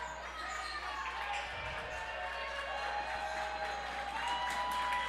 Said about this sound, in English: Menomonie crowd is making some noise.